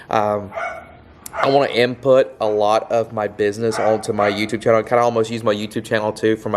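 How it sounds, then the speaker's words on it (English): A dog barks and yips in the background while someone talks steadily over it near a twin-turbo Foxbody project car. "Sorry for my dog."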